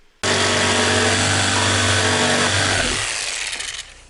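A jigsaw cutting through wood panels for a truck drawer system, a loud steady motorized buzz with a reciprocating whine that runs for nearly three seconds, then tapers off as the blade slows and stops.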